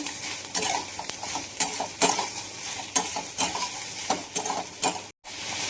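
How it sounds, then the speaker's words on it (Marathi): Onion, garlic and tomato fry for a spicy mutton curry, a steady sizzle broken by repeated stirring scrapes and clinks of a spoon against the pan, close and alone with no voices. "हे बघा कांदा, लसूण आणि टोमॅटो आपण चांगला भाजून घेतला."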